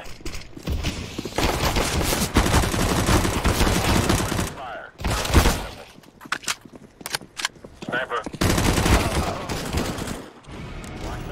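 Gunfire in the shooter game CS:GO, dense volleys and scattered shots coming in waves with brief lulls. Voices can be heard talking underneath.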